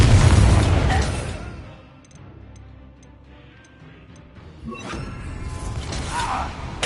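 Spell explosions in the Hogwarts Legacy game: a loud booming burst at the start decays into a quiet, faintly ticking lull, then a second blast erupts and rumbles on, with crackling debris near the end.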